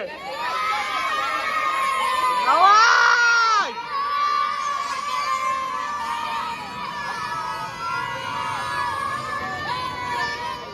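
A crowd at a box cricket tournament match shouts and cheers, loud close voices rising in a burst of excited yells before settling into continued calling and chatter.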